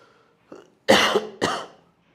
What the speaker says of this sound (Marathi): सर्दी खोकला तीन चार दिवस झाले